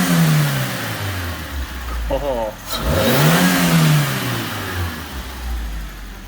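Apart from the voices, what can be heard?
Suzuki Swift engine revving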